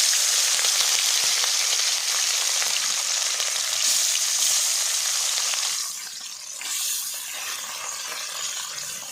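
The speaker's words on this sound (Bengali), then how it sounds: "এবারে মাছগুলো দিয়ে দিচ্ছি।" Puti fish frying in hot mustard oil in a wok give a loud, steady, dense sizzle that crackles on without pause, easing slightly toward the end.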